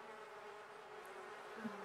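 Bees in The Sims 4 video game give a soft, steady insect buzz that hums quietly and continuously, with no speech.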